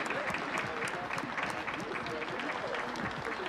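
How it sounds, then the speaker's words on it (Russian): Guests in a period drama scene applaud together, a dense continuous patter of clapping with a low murmur of voices underneath, fairly distant and even in level. "Аплодируем, господа."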